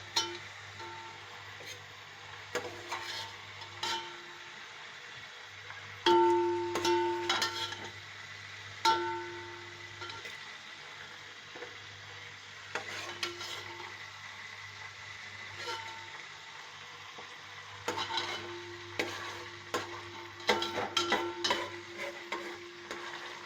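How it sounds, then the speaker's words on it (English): Fried chicken pieces for shahi korma are cooked on a tawa, giving a steady low sizzle broken by repeated scraping and stirring clatter of utensil on metal, close and moderately loud, with no talking. "put these fried pieces on this tawa"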